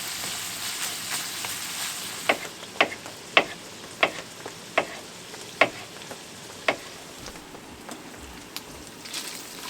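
Ground beef browns in a pan at a camp by a river in rainy autumn weather, giving a quiet continuous sizzle with a run of sharp scraping clicks from a utensil against the pan.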